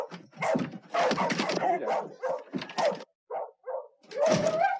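Dogs in a period street scene for a film, loud close barks in quick bursts with short gaps and a few softer yelps, partly muddled with other scene noise.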